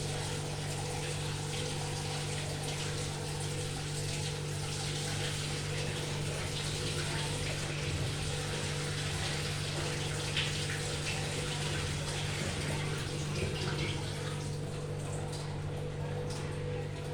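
Cold water runs steadily from a tap over freshly made paneer in a constant, unbroken gush, with a low hum beneath it throughout.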